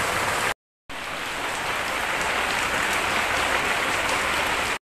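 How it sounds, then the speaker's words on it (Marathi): Heavy rain pours steadily at a workplace near a busy local train station, a dense continuous hiss broken by a brief gap early on, then loud and unbroken with no voices. "इकडे भरपूर असा पाऊस चालू आहे"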